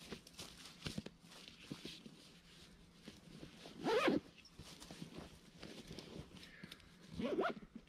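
A zipper on an ultralight gear bag is forced shut in two short, strained rasping pulls, close and fairly faint, with light handling rustles around them.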